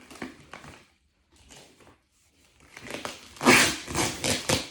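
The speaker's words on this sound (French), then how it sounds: "Désolée pour le bruit. C'est le scotch." Adhesive tape is tugged and peeled in short bursts with pauses between while wrapping a parcel, ending in a louder, harsher stretch of ripping and crinkling.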